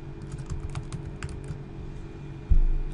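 Quick clicking keystrokes on a computer keyboard while coding a login page, a steady run of taps ending in a louder thump.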